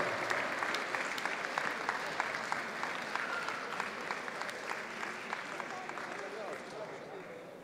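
Applause from the audience at a Rainbow Six: Siege esports final, sustained clapping with sharp individual claps standing out, slowly thinning toward the end.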